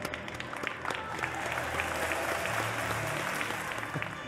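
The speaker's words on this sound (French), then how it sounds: "On peut l'applaudir." A festival crowd applauds continuously at an interview event, a thick even wash of clapping with a faint murmur of voices beneath.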